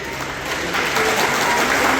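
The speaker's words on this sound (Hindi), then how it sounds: "आप दरख्त नहीं, ऐसा नहीं बजाते, जोर से तालियां बजाते हैं।" Loud, dense clapping from a school audience at a children's naat competition, steady and sustained throughout with a slight swell partway through, no talk over it.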